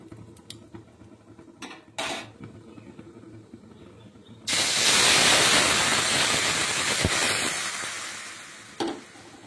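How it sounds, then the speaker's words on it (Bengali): Vermicelli frying in ghee in a home kitchen: a few light clinks, then a sudden loud sizzling hiss bursts in midway and holds for about four seconds before easing off, with no talking. "আবার এটা ঘিয়ে ভাজা হচ্ছে"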